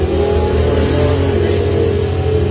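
A Chevrolet Nova doorslammer drag car races down the strip at a test and tune event, a loud, continuous roaring engine at full throttle close by.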